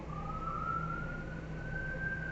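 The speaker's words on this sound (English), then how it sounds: "I don't know if you can hear the siren." A passing emergency vehicle siren, a single steady wailing tone that rises slightly, heard at moderate distance over low background rumble.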